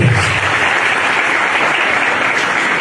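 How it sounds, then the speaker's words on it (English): A crowd applauds Professor Kwesi Kwafo Adakwa, former Vice Chancellor of KNUST, at the Mfantsipim School 143rd Speech Day anniversary, with dense steady clapping that holds at the same level for the whole stretch and has no talk over it. "Professor, shall we give you an applause?"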